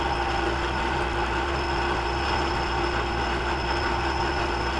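A lathe spins at 1500 RPM while power feeding a tap into a screw jack, giving a steady, continuous mechanical hum with a faint high whine and no pauses.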